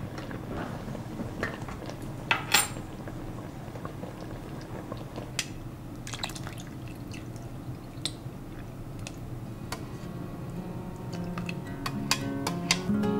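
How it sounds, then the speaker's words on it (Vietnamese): Banana, tapioca, water and canned coconut milk are stirred together in a pot, giving a steady close wet squishing and sloshing with a few sharp spoon clicks against the metal. "Bây giờ mình trộn đều lên."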